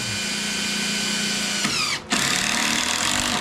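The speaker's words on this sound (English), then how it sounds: "So I won't sink these screws all the way like I normally would, but I am going to put them in there just a little bit." A power drill drives screws partway into wood, a steady whine that briefly stops and restarts with a slight change in pitch, close and clear.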